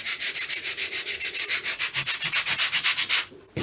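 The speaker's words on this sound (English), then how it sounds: "Being balsa, of course, they sand very nicely." Balsa wood model aircraft parts for a 1/6 scale Tiger Moth being sanded, with steady rhythmic back-and-forth rasping strokes, about twenty in quick succession, close and clear, stopping near the end.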